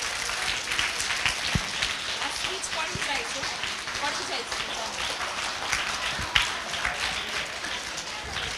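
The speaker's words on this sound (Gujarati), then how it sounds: "તો ફરી એકવાર તાળીઓથી થઈ જાય કાર્યક્રમની શરૂઆત" An audience at a school annual function claps steadily, a fairly distant, even patter of applause opening the programme, continuing throughout at moderate loudness.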